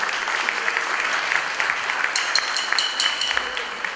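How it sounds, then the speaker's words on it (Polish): Concert audience applause for a lyricist at a Polish singer's concert, steady dense clapping from a room full of people, moderately loud and even throughout, with no talking over it. "Wielkie brawa."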